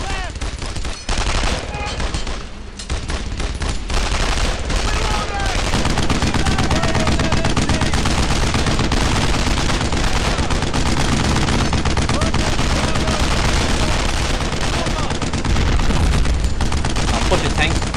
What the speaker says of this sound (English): Getting covered with an MG42.